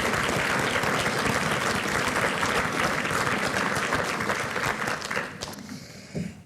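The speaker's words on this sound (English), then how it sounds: "So please give Startup Iceland a big round of applause." An audience at a startup conference in Iceland gives a big round of applause, with dense continuous clapping that thins and fades out over the final second or so.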